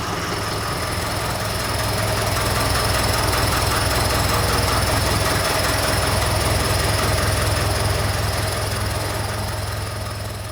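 Old diesel engine of a tractor on an 80-year-old farm in Norway, running after the choke is pulled, with a loud, steady, knocking chug and vibration that holds throughout.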